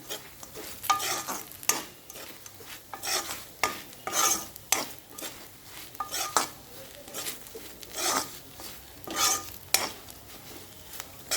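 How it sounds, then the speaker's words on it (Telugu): Spice powder gets stirred into brinjal fry in a pan: repeated scraping strokes of a spoon against the metal come in an uneven rhythm over a soft, steady sizzle, close by with no voices. "ఈ విధంగా పౌడర్ వేసుకొని మొత్తం బాగా కలిసేలాగా కలుపుకోవాలి"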